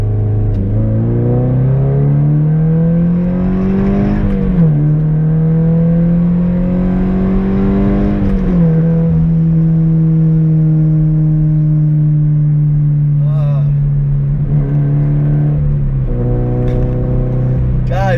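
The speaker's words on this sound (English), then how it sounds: "I'll give you guys a quick acceleration right now" A Subaru BRZ accelerates hard from inside the cabin with a window cracked, its exhaust droning loudly and rising in pitch through the gears, with short dips at each shift and a faint voice over it.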